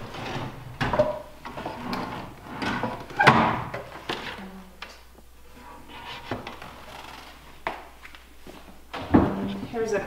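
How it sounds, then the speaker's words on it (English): Handmade wooden drawers in a log cabin slide open and shut with several sharp thunks and knocks, close and fairly loud, while a person talks between them. "These are drawers."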